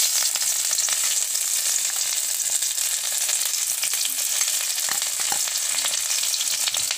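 Onions sizzle steadily in a hot pan for Assamese fish curry, a dense continuous hiss with a few small pops and crackles, close and loud with no talking.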